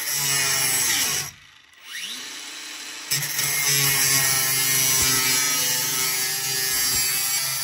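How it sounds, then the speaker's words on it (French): Power tool with a spinning disc cutting van insulation, a loud, close whirring whine that cuts out briefly, then spins back up and runs steadily, with no talk. "il faut couper dans le sens du disque"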